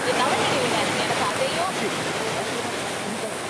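Blyde River water rushing through deep rock potholes in a South African canyon, a steady, loud broadband roar of churning flow that holds constant throughout, with faint voices beneath.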